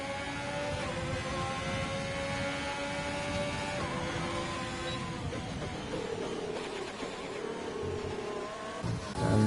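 Formula 1 cars in the F1 2020 racing game at the Mexico circuit roar into turn 1 as a steady, loud blend of high-pitched engine whine with shifting revs from several cars, with no talk.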